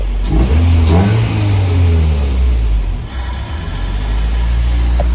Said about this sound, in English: just the idle air control valve doing its job